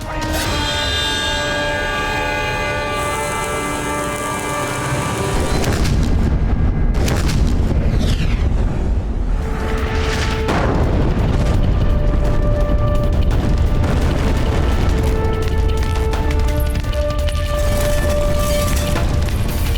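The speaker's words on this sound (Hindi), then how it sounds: "मुगलों ने पुनः तोप के गोले दागना आरंभ कर दिया है।" Cannon fire in a historical Hindi TV drama battle scene between Mughal forces and defenders: heavy booms and blasts roll in over dramatic music, loud and sustained with repeated impacts.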